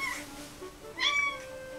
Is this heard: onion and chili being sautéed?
no